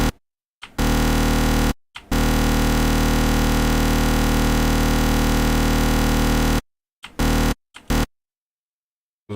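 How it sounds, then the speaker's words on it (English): A psytrance synthesizer patch blares as a dense, buzzy, sustained tone that cuts abruptly on and off, with strong clicks at each hard start and stop and a stuttering burst of short chops near the end. "Some very strong clicking going on from that,"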